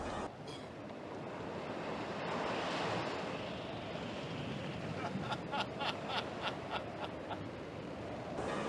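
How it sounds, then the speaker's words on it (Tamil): Wind and rough sea waves as a film sound effect for a stormy lake scene, a broad steady roar of surf and gusting wind with rhythmic pulses of splashing water building toward the end. "பேதுரு காற்றடிப்பதையும் அலைகள் வீசுவதையும் கண்டான்"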